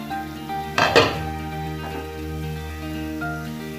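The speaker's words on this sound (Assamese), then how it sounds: "এই ভজা মছলাখিনি তেতিয়া মই ইয়াতে দৈখিনি যে ফেটি থৈছিলোঁ সেই দৈখিনি মই ইয়াতে মিক্স" A spoon scrapes and clinks against a pan while whisked curd is stirred into fried masala, a brief cluster of metallic knocks early on, then quieter faint scraping over a low background hum.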